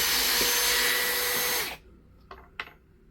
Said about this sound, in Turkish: vidayı atıyorum şu an